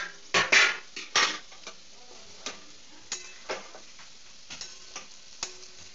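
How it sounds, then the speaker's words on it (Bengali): A metal plate used as a lid is lifted off a cooking pan, giving a few sharp metallic clanks near the start, then sparse lighter taps and clicks against quiet background. "2-3 মিনিট পর আমি আবার থালাটা খুললাম।"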